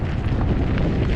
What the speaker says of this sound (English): Crosswinds are tricky because you can go fairly fast because you don't really have a headwind, but then those gusts